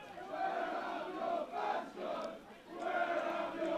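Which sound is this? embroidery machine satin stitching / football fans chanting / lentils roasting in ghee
football fans chanting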